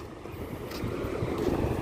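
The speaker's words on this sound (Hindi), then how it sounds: "यहाँ से चारों तरफ हवा चल रही है और आवाज़ थोड़ी क्लियर नहीं आ रही होगी" Strong beach wind in Mumbai buffets the microphone, giving a steady low rumbling roar that builds slightly over a couple of seconds, with no talk.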